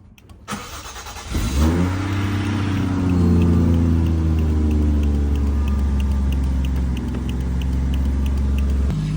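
A Toyota Chaser JZX100 fitted with a swapped-in R154 manual gearbox cranks and fires up, then settles into a steady, loud idle close by.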